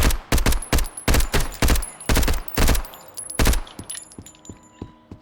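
Bursts of gunfire in the survival shooter Road to Vostok, loud and close, with rapid clusters of shots in an irregular rhythm, then a few fainter clicks and mechanical ticks as the firing stops.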